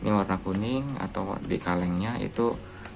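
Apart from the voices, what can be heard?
No everyday noises stand out.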